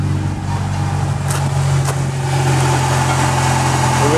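A 1997 Ford Escort with a 2.0 SOHC engine idles steadily, fresh from a timing belt replacement, its low even hum running close and uninterrupted.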